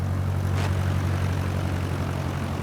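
Propeller aircraft engine brought back to idle in a flight simulator, a steady low droning hum with a deep tonal throb that holds constant and unbroken, loud and close, with no voices.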